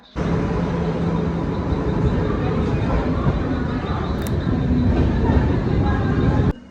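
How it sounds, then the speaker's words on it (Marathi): A train arriving at a crowded station rumbles steadily close by, a broad continuous roar with a brief high squeal midway, then cuts off abruptly. "जस्ट आपली ट्रेन इलेली आहे बघा."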